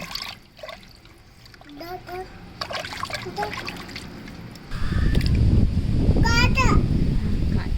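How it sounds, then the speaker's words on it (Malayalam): River fish, pallathy, being rinsed by hand in a vessel of water: the first half is faint with children talking in the background, then loud close splashing and sloshing takes over and continues steadily to the end. "ഇനി അതൊരു 2 വെള്ളത്തിൽ നമുക്ക് കഴുകിയെടുക്കണം."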